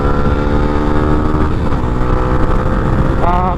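A Yamaha Sniper 150 v.2 motorcycle with a 14t-42t sprocket set revs hard in third gear toward the rev limiter, a loud, steady, close engine drone that rises slightly in pitch throughout.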